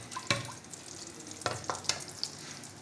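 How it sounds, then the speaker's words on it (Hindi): Whole cumin seeds, about a spoonful, hit hot oil in a pan, giving a soft steady sizzle broken by a few sharp crackles and clinks, quiet and close with no talking. "अब इसके अंदर मैं डाल दूंगी साबुत ज़ीरा, तकरीबन 1 चम्मच के करीब। हल्का सा इसे भी फ्राई करेंगे"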